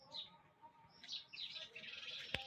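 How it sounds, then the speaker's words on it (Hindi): House sparrows chirp in a tree at dusk, a busy overlapping chatter of high tweets at moderate distance, ending with a sharp brief knock. "इस चिड़िया का नाम स्पैरो है।"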